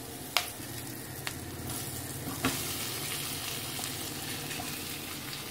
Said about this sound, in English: Fry them in the oil for a minute.